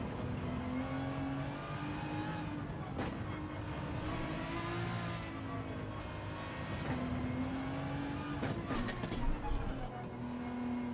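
Gran Turismo 7 race car engine droning and rising in pitch as it accelerates out of a corner, a steady close engine tone with shifting harmonics under a commentator's voice.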